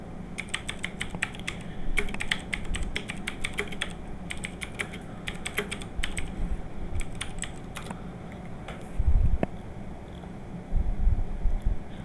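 Typing on a computer keyboard while entering a keyword-research search on a website: quick bursts of clicking keystrokes separated by short pauses, close and clear over a low background hum, with no speech.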